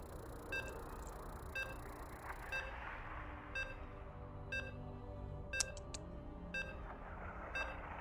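Short electronic beeps repeating roughly once a second while a StarCraft II match fails to load, clear and evenly spaced over a steady low background hum.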